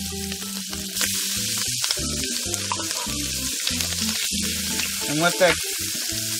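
Two cans of canned mushrooms frying in a pan for beef stroganoff, a steady close sizzle with clinks of stirring running under a man's speech throughout.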